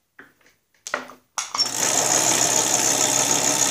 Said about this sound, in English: That's when the drive disc starts, the clutch disc is rubbing against it.